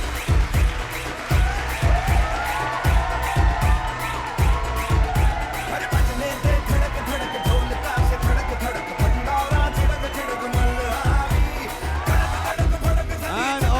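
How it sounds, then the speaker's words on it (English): An audience at the Tribes ROAR 2019 awards cheers and whoops for the Person of the Year, the crowd noise riding over loud, steadily thumping music that pulses evenly for the whole stretch. "Let's give him a big round of applause."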